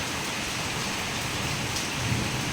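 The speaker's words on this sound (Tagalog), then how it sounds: "Bigis, napakainit ngayon, umulan na ng matindi." Heavy first rain of May pouring down, a dense, continuous hiss of drops striking surfaces, loud and close throughout with a faint low rumble beneath and no talking.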